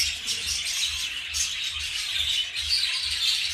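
Rainbow budgerigars, a breeding pair with two chicks, chirp and chatter nonstop in quick, bright tweets with occasional squawks, close and lively with no voices.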